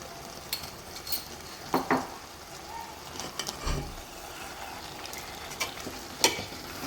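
Mutton sautés with salt in a pan for Dindigul mutton biryani, a continuous close sizzle broken by irregular scrapes and clinks of a spoon against the metal.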